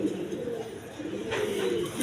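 Healthy pigeons on a farm give a low, continuous cooing murmur, fairly close and moderately quiet, with no voices over it.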